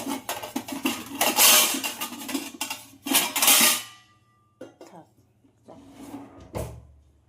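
Crockery knocks and scrapes as a small thin plate is set over a bowl of mixed food in a home kitchen, a run of close clattering handling followed by a quieter pause and a few final light clinks.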